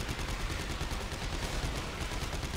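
Weapon fire in the sci-fi horror video game Dead Space 3: a steady, dense, rattling stream of rapid shots that holds at an even loudness with no gaps, heard alone.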